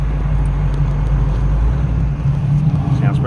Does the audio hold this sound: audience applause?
no